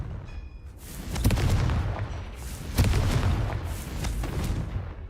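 Confringo blasting spells going off in the Hogwarts Legacy video game: two sharp, close explosions about a second and a half apart, each followed by rumbling debris, amid crackling combat noise.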